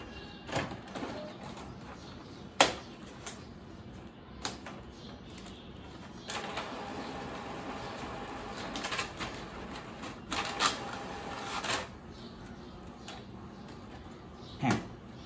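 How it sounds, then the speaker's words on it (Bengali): A home inkjet printer set to best quality feeds and prints a page, giving soft intermittent mechanical clicks and whirring bursts in a quiet room with no talking. "আমি বেস্ট কোয়ালিটিতে এটা প্রিন্ট দিচ্ছি।"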